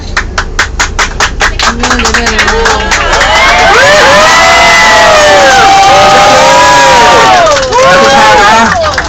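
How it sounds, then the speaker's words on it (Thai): A large crowd cheers and shouts loudly, with a burst of rapid clapping at the start and whoops rising over the roar. "ปรบมือดังๆให้กับแฟนคลับนะฮะ"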